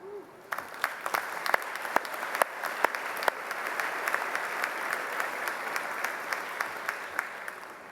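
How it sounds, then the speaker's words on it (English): Steady applause from a large audience at a university graduate commencement ceremony, dense clapping that builds quickly and holds at an even level throughout. "give each other a hearty round of applause"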